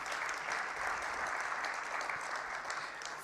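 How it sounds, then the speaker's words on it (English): A dinner audience at a budget review session breaks into sustained applause, a dense and even wash of many hands clapping, heard from some distance. "he certainly deserves a massive round of applause"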